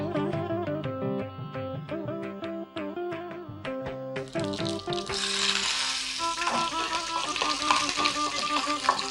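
Oil sizzles and crackles as a dried chili fries in it, the hiss growing louder partway through, heard under background music.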